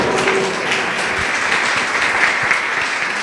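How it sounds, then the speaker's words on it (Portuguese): Congregation clapping at a church service, a continuous wash of many hands at moderate level with a faint voice murmuring underneath. "Palmas para Ele, para o nosso Criador"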